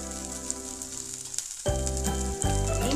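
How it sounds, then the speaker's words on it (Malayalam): Ginger, garlic and green chillies sauté in a pan with a steady close sizzle, which grows louder and fuller partway through as more goes in or the food is stirred. "ഇഞ്ചിയും വെളുത്തുള്ളിയും പച്ചമുളകും ഒക്കെ ഒന്ന് വഴന്നിട്ടുണ്ട്."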